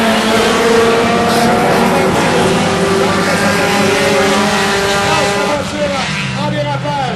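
Four-cylinder race cars accelerate through a turn on an oval track at St-Marcel, Quebec, with several loud engines droning and rising in pitch together, continuous and close, and a commentator talking over them.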